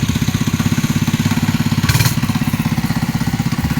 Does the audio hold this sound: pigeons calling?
no